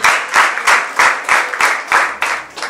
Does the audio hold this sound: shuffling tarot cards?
no